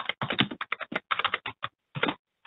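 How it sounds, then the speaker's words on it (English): Fast close typing on a computer keyboard while entering a product search, crisp clattering keystrokes in rapid bursts separated by brief gaps, then a final single tap. "you could simply just type it in here"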